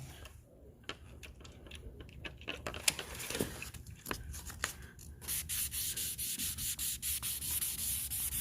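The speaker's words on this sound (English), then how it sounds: "we're going to block over it with this until we remove those 600 grit scratches" A sanding block scrubs wet over a car's clear coat, removing 600 grit scratches. A soft, close rubbing starts patchy and builds into a steady rhythmic back-and-forth strokes.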